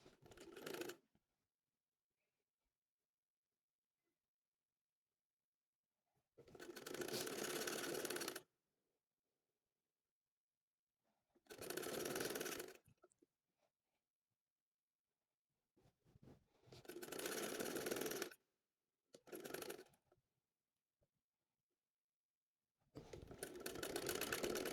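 A sewing machine stitches a sleeve onto a baby shirt, running in four or five bursts of a few seconds each, separated by silent pauses, close and fairly loud.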